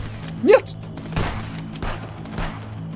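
Video game gunfire bursts out in a sharp volley of shots near the start, followed by a few more isolated thumping shots over a steady game soundtrack.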